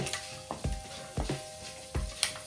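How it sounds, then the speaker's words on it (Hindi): Spices sizzle and crackle in hot oil as a tadka for a pumpkin papad dish, with a spoon scraping and stirring the pan in a few distinct strokes. "ये लीजिए तड़का लग गया है"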